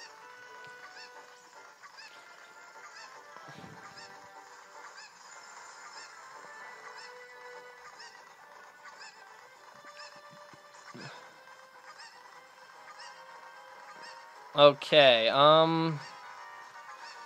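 A cucco chicken in Zelda Ocarina of Time 3D lets out one loud, squawking, honking cluck lasting about a second near the end, over soft game music, with a little talk.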